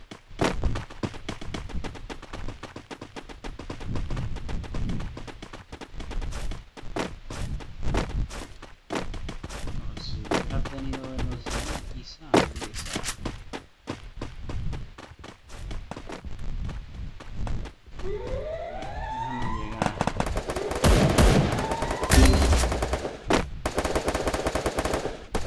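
Gunfire in the Free Fire video game: rapid machine-gun bursts and single shots crackle in quick runs, mixed with game footsteps and effects, loud and continuous.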